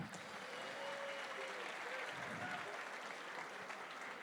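Steady applause from a large crowd at a darts World Cup opening ceremony fills the whole stretch, even and continuous, with a faint voice speaking underneath.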